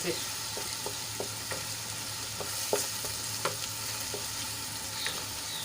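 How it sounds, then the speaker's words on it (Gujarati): Onions sauté in a pan for a methi papad curry, giving a quiet, steady frying hiss punctuated by light, irregular spatula taps and stirring clicks. "અહીંયા ડુંગળીને આપણે એકદમ લાલ થવા દઈશું"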